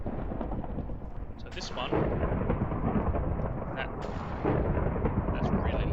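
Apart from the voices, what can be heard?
thunder in the video game Minecraft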